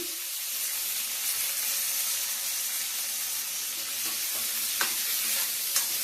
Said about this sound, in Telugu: దీంట్లోకి మనం కడిగి పెట్టుకున్నాం కదా ఈ బంగాళాదుంప ముక్కల్ని యాడ్ చేద్దాము.